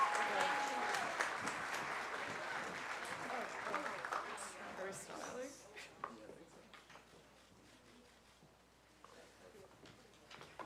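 A crowd at a school commencement applauds for prize winners, a dense clapping that starts full and gradually thins and fades, leaving scattered claps near the end.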